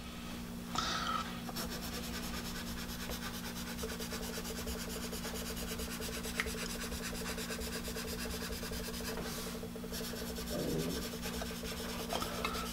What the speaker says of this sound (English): You're hearing a little bit of feedback coming from this pencil as it interacts with the paper.